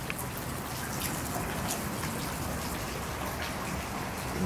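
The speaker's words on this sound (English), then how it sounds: "it starts raining. And it just floods every place" Steady rain falling and pattering on surfaces, a continuous even hiss with scattered nearby drips.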